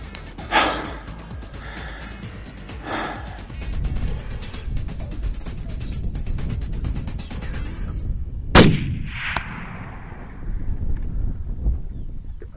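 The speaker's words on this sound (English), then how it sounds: "Good shot, Mark." Rifle shot fired at a desert mule deer while hunting in New Mexico: one sharp loud crack midway, preceded by softer thumps and breathing, with outdoor rustle and low wind throughout.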